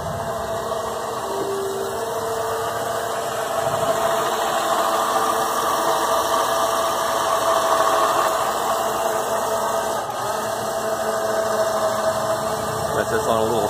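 Harbor Freight electric winch hauling a sled of plywood up a DIY roofing ramp outdoors, a steady, continuous motor drone with an intermittent voice talking over it.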